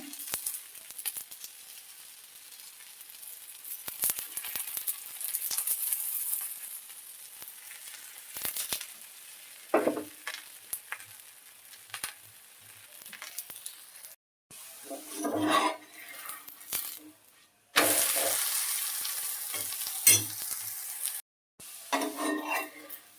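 Malnad rice roti cooking on an oiled griddle, a faint continuous sizzle with scattered utensil clinks and scraping, louder bursts of frying and metal contact toward the end.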